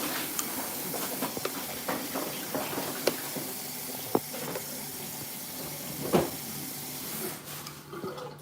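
Running tap water hisses steadily as potatoes are rinsed in a sink, with occasional knocks and splashes of the potatoes being handled, moderately close.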